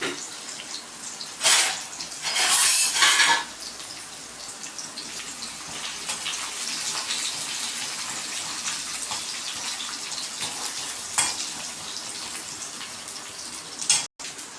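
Mustard seeds, fennel, chopped onion and crushed ginger sauté in a pan for a potato fry, giving a steady close sizzle with a few louder spitting bursts and no talking.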